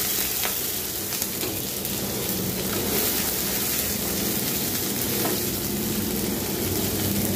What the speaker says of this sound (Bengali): পেঁয়াজটাকে একটু আমি বেরেস্তার মতো ভেজে নিচ্ছি